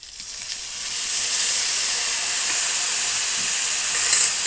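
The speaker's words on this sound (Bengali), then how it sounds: "জিরে গুঁড়ো আর আদা বাটাটা দিয়ে দেব।" Cumin powder and ginger paste frying in a pan for a Bengali fish curry, a loud, steady close sizzle and hiss that swells after the first second and holds.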